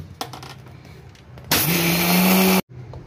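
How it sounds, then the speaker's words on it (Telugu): A kitchen mixie grinds uthappam batter of rice and water, starting abruptly after a few faint knocks, then a loud, close, steady motor whine for about a second before cutting off sharply. "అలాగే 1 గ్లాస్ వాటర్ యాడ్ చేసుకొని మిక్సీ పట్టుకోవాలి"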